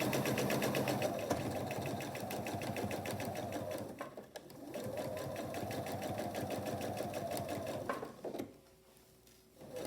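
A sewing machine stitches lining to outer fabric with a 1/4 inch presser foot, running steadily and close for several seconds, pausing briefly, then resuming before stopping near the end.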